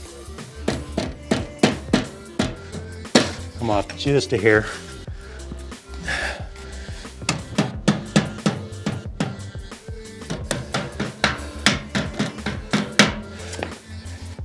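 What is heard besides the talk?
hammering exhaust baffle into pipe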